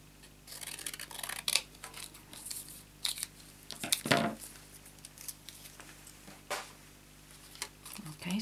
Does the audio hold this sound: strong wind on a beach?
no